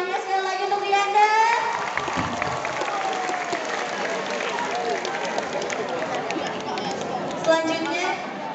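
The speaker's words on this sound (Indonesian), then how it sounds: "Boleh kita tepuk tangannya sekali lagi untuk Rianda." Applause breaks out from the audience at a school student council election after a candidate's speech, a steady mass of clapping mixed with crowd voices and some cheering.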